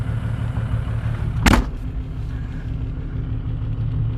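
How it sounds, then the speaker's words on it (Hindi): A Toyota HJ61 4x4 engine fires with a sudden loud cranking burst, then settles into a steady, close, low idling rumble with no talk. "ये ऐसे स्टार्ट होती है ये हमारी गाड़ी"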